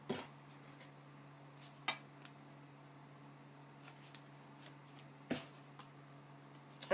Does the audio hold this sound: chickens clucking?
no